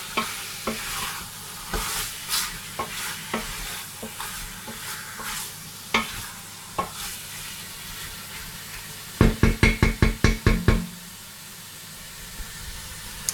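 Meat being stirred in a hot pan: soft scraping strokes at a slow, uneven pace over a low frying hiss, then a quick burst of about eight sharp, rapid scrapes near the end before the pan settles back to a quiet sizzle.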